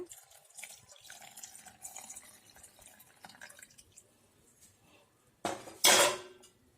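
Quiet clinks of kitchenware, then a brief, louder splash of cooking water being poured into a mixer jar near the end.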